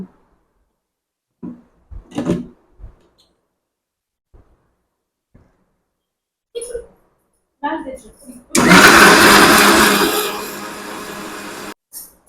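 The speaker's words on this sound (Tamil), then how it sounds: "நம்ம ஃபர்ஸ்ட் என்ன பண்ண போறோம்னா மிக்சியில் போட்டு அரைச்சிக்க போகிறோம்" A few scattered bumps and short voice sounds, then a loud mixer grinder grinding spices for Afghani chicken masala whirs steadily for about three seconds before cutting off abruptly.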